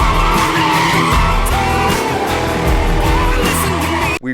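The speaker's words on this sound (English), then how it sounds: "We've drifted this car." Tires squeal loudly and continuously as a Genesis 5.0 R-Spec drifts, the engine droning underneath at high revs, close and sustained throughout.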